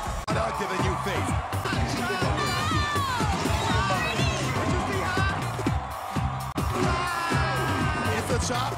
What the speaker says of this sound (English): give the West a round of applause